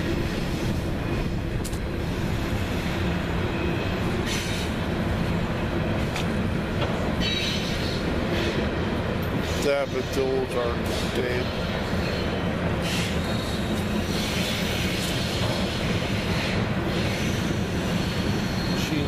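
Train rolling past on a railway, a steady loud rumble with wheel squeal and clatter lasting throughout, while a person speaks briefly over it outdoors.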